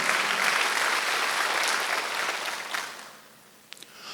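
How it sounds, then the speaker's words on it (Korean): A church congregation applauds during a Sunday service, a dense, loud clapping that gradually fades out, followed by a couple of sharp isolated claps in a quieter room. "박수 하나 더 주세요."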